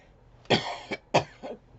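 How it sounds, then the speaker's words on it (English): Two sharp coughs, close and fairly loud, about half a second apart, each trailing off into a short throaty rasp. "ooh, excuse me about that coughing"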